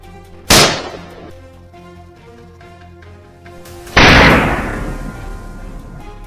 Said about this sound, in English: Right after, the gunshot rang out.